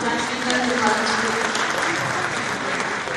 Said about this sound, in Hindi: एक बार जोरदार तालियां हो जाए श्री नंद कुमार जी